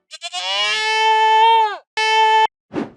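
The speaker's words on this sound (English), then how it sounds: "Once again, I'm going to use a goat, just one of its other noises." Minecraft goat from the video game, sounding as a musical note: several short rising bleats, then a long sustained tonal bleat, a shorter repeated tone, and a brief raspy burst, loud and close.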